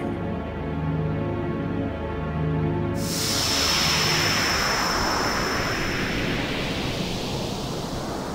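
Jet engine roar in Final Fantasy X: a low droning hum suddenly swells into a loud, broad rushing roar with a high whine that sustains and slowly settles, with no voices.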